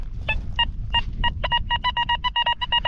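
A metal detector emits rapid repeated beeping tones, spaced at first and then quickening into a fast, insistent run of short bright pulses over low background noise, a very strong high-ID signal while detecting for old coins.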